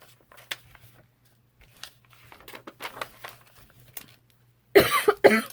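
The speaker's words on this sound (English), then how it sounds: "Sorry, that was a serious little cough." Quiet rustling and crinkling of material, then a sudden loud double cough close up near the end.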